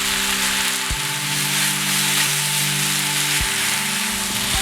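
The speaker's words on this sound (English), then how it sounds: "Give it all a good stir." Garlic, a bay leaf and a cinnamon stick sizzle steadily in oil in a pot for a beef and potato tagine, a loud continuous frying hiss with a few brief stirring breaks, no talking.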